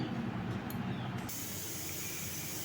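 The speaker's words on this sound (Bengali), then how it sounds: "সিটি পড়ছে আমি এটাকে দুটো সিটি দিয়ে নেব" A pressure cooker boiling jackfruit builds a steady loud hiss of escaping steam, with the rushing sound shifting brighter and fuller partway through as the whistle releases, continuous and close with no voices.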